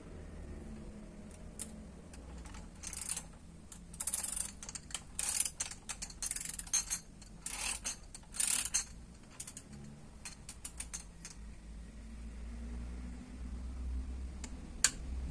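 A torque wrench tightens bolts to 20 N on a Peugeot 106 Roland Garros, giving repeated close ratcheting clicks in uneven bursts over a quiet background with no speech.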